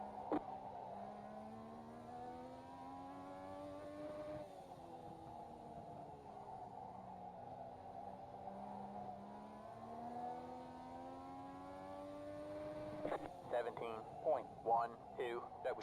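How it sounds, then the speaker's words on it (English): A Legends race car engine in the iRacing simulator revs and drones steadily through gear changes, with rising and falling engine pitch, played quietly and ending in a burst of sharper revving. "you'll know these engine sounds more"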